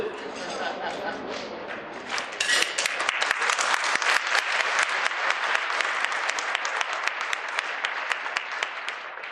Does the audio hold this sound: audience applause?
yes